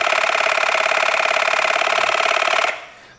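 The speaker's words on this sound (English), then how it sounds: "So this compressor really has like a variable speed where it can really control that." An ETENWOLF S1 tire inflator compressor running at variable speed, a loud close buzzing motor with a fast pulsing rattle that holds steady for under three seconds, then cuts off and fades.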